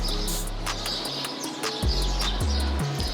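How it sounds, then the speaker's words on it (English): Birds chirp and tweet in a home garden in Dubai, with short repeated calls over a low steady background hum, fairly close and moderately loud, no talking. "And so many birds here."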